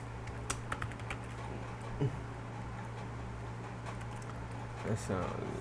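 Keystrokes on a computer keyboard while coding an npm package, a sparse scatter of light clicks with a couple of louder taps over a steady low hum and quiet room noise.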